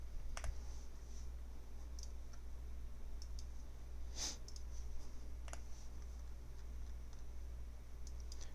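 Sparse, soft clicks of keys typing code on a computer keyboard, isolated strokes spaced irregularly over a steady low hum, nearby but quiet.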